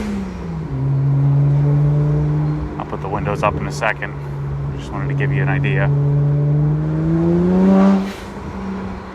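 A BMW 1M with an N54 engine and downpipes idles with a deep, steady exhaust drone, surging through a couple of blips and revs midway, with someone talking briefly over it, close by.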